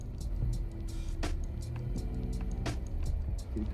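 A manual car pulls away as the clutch is let out, a low engine rumble under scattered clicks and thumps from inside the cabin.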